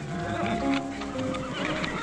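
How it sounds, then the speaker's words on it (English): A horse whinnies and shifts its hooves close by, the neigh rising above a steady, busy background with faint talk. "You listen to horse."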